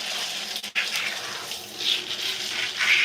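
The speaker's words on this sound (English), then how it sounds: "So we're gonna rinse this." Water runs steadily while shampoo is rinsed out of curly hair during a wash-and-go routine. A continuous close gush splashes with a brief dip near the start, and no one speaks.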